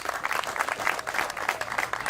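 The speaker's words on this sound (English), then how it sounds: "Let's give that a round of applause." Audience at a Cleveland Browns groundbreaking ceremony at Shaw Stadium breaks into steady applause, a dense wash of many hands clapping at close-to-moderate distance for a couple of seconds, with no talk over it.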